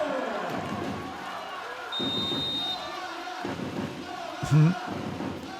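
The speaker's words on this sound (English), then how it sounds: "The crowd really doing their best to keep Novara high and up" An arena crowd at a Champions League women's volleyball match, Novara against VakifBank, roars steadily in support of Novara beneath a commentator's voice, with a brief whistle and a sharp thump near the end.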